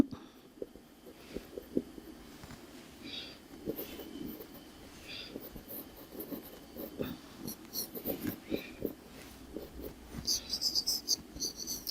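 A hard pencil draws fine lines on paper, soft scratchy strokes repeating in short irregular bursts, close and quiet, with faint background noise.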